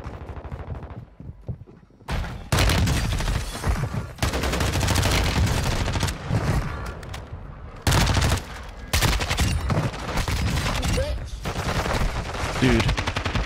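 MP5 submachine gun, the Lachmann Sub, firing in Warzone 2 in loud, sustained automatic bursts that fill nearly the whole stretch, with brief pauses between strings of rapid shots.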